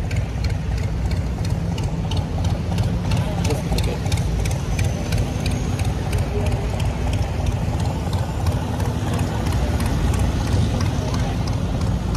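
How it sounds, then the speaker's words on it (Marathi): Long-tail boat engine near Phi Phi Island, Thailand: a loud, steady droning motor running continuously close by, with a constant rough rumble and no pauses. "आम्ही आता आमची जी स्पीड बोट आहे त्यावरून आम्ही लाँग बोटला आलो आहे"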